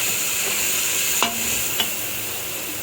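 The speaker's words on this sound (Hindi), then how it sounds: "देखें जी, प्याज फ्राई हो रहे हैं।" Onions frying in a pan for a dhaba-style arvi masala, a steady broadband sizzle running throughout with two brief louder clicks of stirring partway through, no voices.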